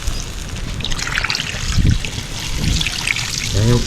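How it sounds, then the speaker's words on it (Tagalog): Water trickles and splashes steadily into a pot, a continuous close pouring sound, with a brief voice near the end. "Mas lagyan natin yun ng tubig."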